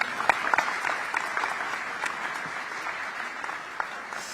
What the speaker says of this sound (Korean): 자유 발언을 해주신 모든 분들께 다시 한번 감사의 박수 부탁드리겠습니다